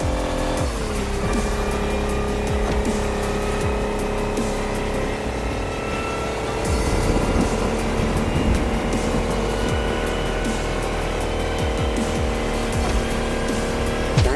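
An electric race car in The Crew Motorfest drives through a storm with a constant loud whine and road rumble, punctuated by occasional squeals and impacts, with no talking.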